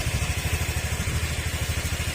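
A Honda Click 125 scooter engine idling steadily with a close, even, throbbing low pulse and light mechanical clatter, running continuously while coolant is being added.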